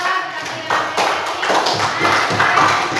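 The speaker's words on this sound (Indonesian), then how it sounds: "Tepuk tangan untuk kelompok 2." Scattered claps from a classroom group applauding student presenters, fairly close and uneven, with some taps and thuds mixed in for about three seconds.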